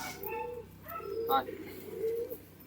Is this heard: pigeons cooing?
yes